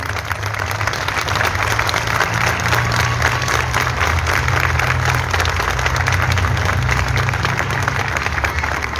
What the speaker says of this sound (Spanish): Un aplauso grandísimo para nuestra banda de música.